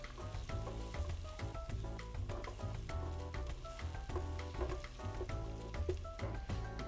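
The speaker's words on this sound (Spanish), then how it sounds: "Revolvemos y vamos a esperar que empiece a cristalizar la cebolla." Onion and garlic sauté in a pan while being stirred. A steady sizzle runs underneath continuous background music that mostly covers it.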